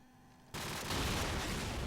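Rapid AK rifle fire in the video game Counter-Strike, a dense loud burst that cuts in suddenly after a quiet moment and continues without pause.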